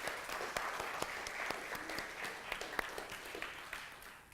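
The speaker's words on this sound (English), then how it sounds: "Let's applaud that" Congregation applauding during a church service at a spiritual living center, a lively, moderately distant patter of clapping with sharp individual claps poking through, sustained throughout.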